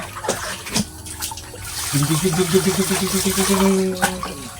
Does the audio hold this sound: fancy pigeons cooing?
no